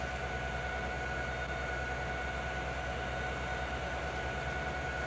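A train in the Farming Simulator game on an American river valley farm map gives a steady, continuous rumble and hum throughout, loud and even with no talking.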